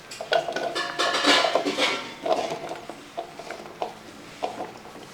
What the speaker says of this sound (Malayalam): ഈ ഒരു രീതിക്ക് അങ്ങോട്ട് അരിച്ചെടുക്കുക